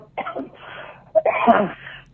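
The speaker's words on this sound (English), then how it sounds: "she really got to get that cough looked at there" A few sharp, throaty coughs in bursts, close by and fairly loud, with a short pause between the first fit and a stronger second one.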